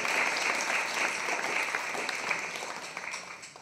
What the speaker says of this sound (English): Applaud it.